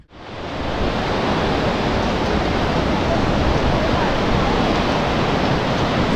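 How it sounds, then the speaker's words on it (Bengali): Rushing mountain stream with strong force and murky, dark water on the Gomukh trek in the Himalayas, a loud, steady broadband roar that fills the whole clip without a break. "ফোর্সটা দেখো, জলের ফোর্সটা, আর জল এখানে ঘোলা কালো।"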